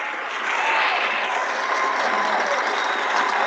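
A crowd applauds and cheers, a steady dense patter of clapping that rises quickly and holds evenly, heard alone at moderate distance.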